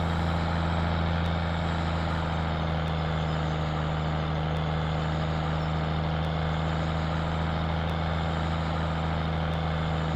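A dump truck engine in Farming Simulator 17 idles with a steady, droning hum that stays constant and unbroken from start to finish, with no talking.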